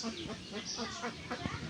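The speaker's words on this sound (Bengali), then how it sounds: "অনেক মুরগি দেখছো না?" Chickens at a poultry farm cluck and chatter in short repeated bursts close by, with people talking over them throughout.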